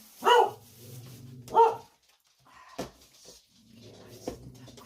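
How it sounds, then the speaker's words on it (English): A dog barks indoors in a kitchen where a chicken casserole is being prepared: two loud, close barks, then softer yips and some knocking in the background. "Crazy dog. Barks at anything."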